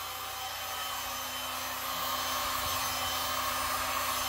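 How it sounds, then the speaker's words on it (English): A heat gun turned down to blow cool air, used for paint pouring, gives a steady close broadband whoosh with a faint motor hum that grows slightly louder partway through. "My heat gun, I love this heat gun."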